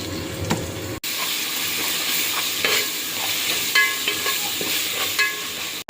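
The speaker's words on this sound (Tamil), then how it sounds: "இப்போ இஞ்சி பூண்டு பேஸ்ட்டு போட போகிறேன்." Ginger garlic paste frying with browned onions in a kadai: a loud, continuous sizzle with repeated scraping and stirring strokes of a spoon against the pan, after a brief cut at the start.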